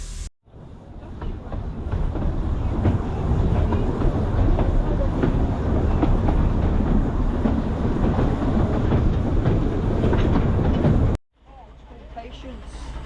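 A WW1-era steam train on a heritage railway rumbles steadily past up close, loud continuous clatter of wheels and carriages for about ten seconds before cutting off, with people talking nearby.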